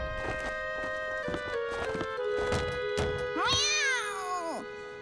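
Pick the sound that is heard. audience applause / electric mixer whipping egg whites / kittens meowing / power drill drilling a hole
kittens meowing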